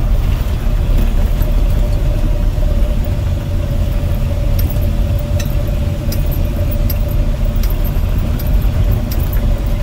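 A truck plows snow along a rural Montana road, its engine droning loud and steady with rattling and clinking from the plow gear, no talk.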